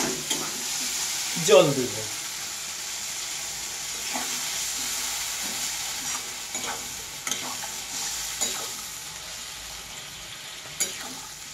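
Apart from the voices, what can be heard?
stirring and frying food in a pan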